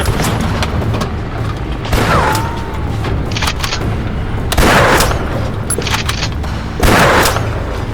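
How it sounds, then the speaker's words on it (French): Film battle scene with loud gunfire and heavy booming explosions in repeated bursts, dense rattling shots between big blasts, close and intense. "Et maintenant, ils nous tirent dessus."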